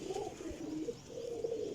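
Soft, low white pigeon coos roll out in a few gentle, throaty phrases, close by but quiet, with no voices.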